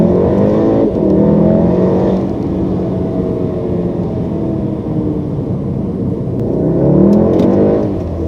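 Volkswagen Golf R MK7 hot hatch on a test drive, engine droning steadily from inside the cabin with rising and falling revs as it accelerates, loud and continuous with no talking.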